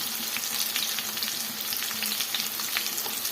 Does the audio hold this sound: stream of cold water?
no